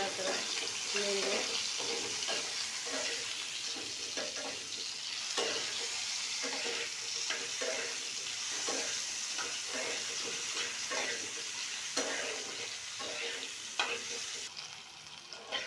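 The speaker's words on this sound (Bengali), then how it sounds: "কেটে রাখা আলুগুলো ভেজে নিয়ে দিয়ে দিলাম, আর একটু হলুদ দিয়ে দিচ্ছি।" Potatoes frying in soybean oil with turmeric in a pan, a steady sizzle broken by repeated scraping stirs of a utensil, close and continuous.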